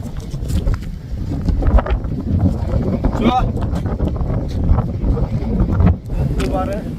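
Strong wind gusts across a windmill farm in Idukki, buffeting the microphone with a low, steady roar, while people talk faintly underneath.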